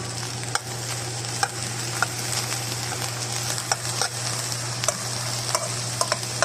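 Ground meat frying in a pan as it browns, stirred with a utensil: a steady loud sizzle with scattered scraping clicks from the stirring, under a constant low hum, no talking.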